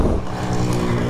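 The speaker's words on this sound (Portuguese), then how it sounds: "Esperar os carros passarem para poder" A steady roar of cars passing on a road near Japaratinga beach in Alagoas, Brazil, heard from a motorcycle waiting at the roadside; the traffic noise is close, loud and continuous, with no talk.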